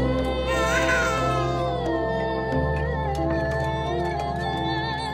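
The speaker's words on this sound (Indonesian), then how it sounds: "dengan tangisan yang sangat keras ketika ia lahir" A newborn baby cries loudly in an animated legend about the origin of Tengger near Mount Batok, the wailing rising over continuous background music throughout.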